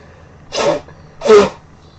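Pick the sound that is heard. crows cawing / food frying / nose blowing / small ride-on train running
nose blowing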